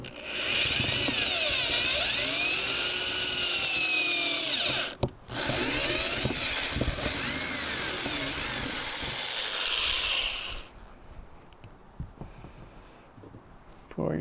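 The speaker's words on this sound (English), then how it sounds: "you're gonna make sure that you're drilling all the way through" A power drill whines loudly and continuously drilling through metal on a Ford Transit van roof, pausing briefly once, then grinds on before stopping, leaving quieter handling noises.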